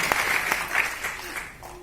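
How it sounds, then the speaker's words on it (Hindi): Audience applause at a motivational speech event honoring a guest speaker, a dense wash of clapping that stays loud then tapers toward the end, with no talk over it. "जोरदार तालियां कबीर सर के लिए"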